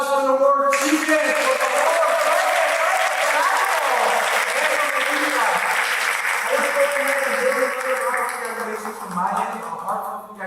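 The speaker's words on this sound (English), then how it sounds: "Another round of applause" A community celebration audience at College of the Redwoods claps loudly and steadily for about ten seconds, a dense wash of applause with voices mixed in that fades slightly toward the end.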